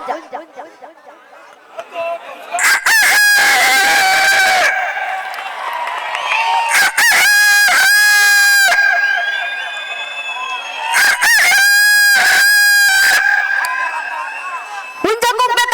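A male mimicry artist on stage imitates a rooster's crow, giving several loud, drawn-out cock-a-doodle-doo calls in separate bursts, with an audience murmuring and chattering in the background.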